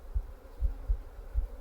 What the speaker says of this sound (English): Not enjoying the flies down here.